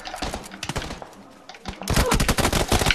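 Automatic gunfire in PUBG, a sparse burst of shots followed by a long, loud rapid volley of cracks, close and dominant, with no talk over it.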